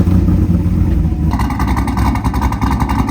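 Corvette C8 and C5 engines idling with an idle fault while the cars are moved, a loud steady rumble that turns rougher and more pulsing partway through, with no talking.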